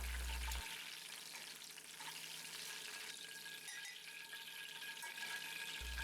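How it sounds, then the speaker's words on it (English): Herbs sautéing in clarified butter in cast iron cookware, a steady even sizzle and hiss that runs unbroken throughout, fairly quiet and close with no voices. "Sautéing some herbs in the butter will make this an herbal butter."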